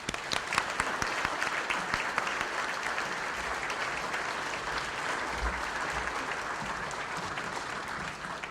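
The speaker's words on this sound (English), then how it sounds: "Let's give them a round of applause." Warm applause from a meeting audience welcoming new members at a monthly program, steady dense clapping that holds evenly throughout.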